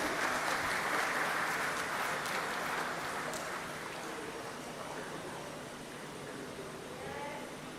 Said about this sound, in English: Ladies and gentlemen, I request you to kindly continue with the applause.